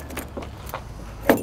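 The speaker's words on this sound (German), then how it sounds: "Brauchen wir einen Schlüssel und dann geht so ein bisschen die Suche los." Car keys jangle during a search for the right key to the trunk of a 1966 Mercedes-Benz W108 250S, a few light metallic clinks followed by a louder close rattle near the end.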